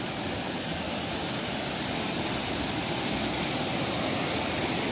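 Floodwater rushes loudly and steadily through a swollen Konkan stream after heavy rain, a dense continuous roar with no voices.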